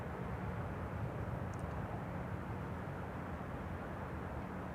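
A jet approaching to land at Amsterdam Schiphol gives a constant broad distant roar, steady and moderately quiet throughout with no distinct peaks or voices.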